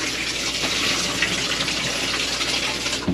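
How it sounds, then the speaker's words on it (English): Water rushes steadily through a folding portable washing machine during a rinse to flush out soap, a continuous close gushing splash with no talk. "let me get this quick rinse. Just gonna get all that soap out of there."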